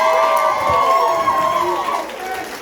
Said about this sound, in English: Like, give us a round of applause.